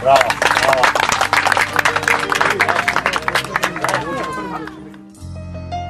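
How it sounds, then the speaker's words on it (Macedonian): A crowd at a Macedonian shepherd dog show applauds the champion female, dense clapping and cheering mixed with loud talk that thins toward the end. "Аплауз."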